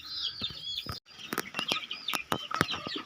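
Soft clucking from a hen mixed with high, thin peeping of chicks, close by and fairly quiet, with a brief flutter of wings.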